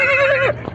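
A horse at a livestock market in San Antonino Castillo Velasco, Oaxaca, lets out a loud, close whinny that rises and then trails off, with faint background noise after.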